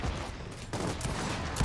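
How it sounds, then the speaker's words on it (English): Shotgun fire in Gears of War 4, a dense, loud burst of blasts and gunfire, with a sharp break midway and another punch at the end, no talk. "the shotgun is really strong"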